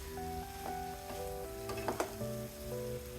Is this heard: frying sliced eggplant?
yes